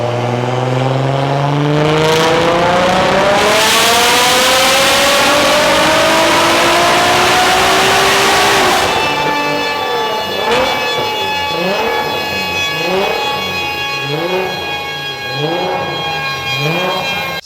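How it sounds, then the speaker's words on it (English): A 1000 bhp VW Golf R on test revs hard, its engine note climbing through sweeping rising pitches before settling into a loud, pulsing, wavering rev, close and with no talk over it. "just doing some final testing on Morgan's car ahead of it leaving this weekend"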